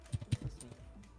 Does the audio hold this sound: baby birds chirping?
no